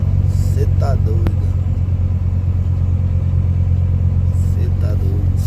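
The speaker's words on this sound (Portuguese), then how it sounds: "Olha a movimentação de carro." Road traffic on a São Paulo-bound highway, a steady loud rumble of cars and engines filling the whole stretch, with brief voices talking over it now and then.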